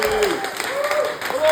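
Brief crowd applause at a live Bread and Roses comedy-style gig for three audience members, with loud voices shouting and cheering over the clapping.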